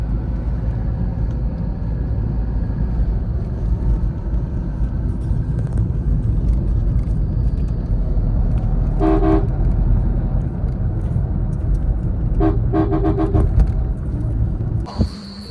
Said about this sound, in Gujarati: પાલાવાસની ચોકડી અને મોઢેરા ચોકડી ફૂલ ટ્રાફિક છે